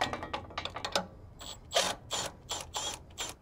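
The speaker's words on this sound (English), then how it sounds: "we're going to take our control arm bolt here off." Ratchet turning a control arm bolt on a vehicle during a lift kit install, a series of quick metallic clicking bursts in uneven spurts, close and alone with no talk.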